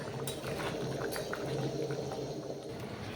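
A tamarind fish sour curry bubbles in a pot on a gas stove, a quiet continuous simmer of soft popping and burbling.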